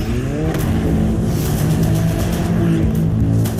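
An Alfa Romeo race car engine revs loudly and continuously, a dense steady roar with rising and falling pitch throughout, no voices present.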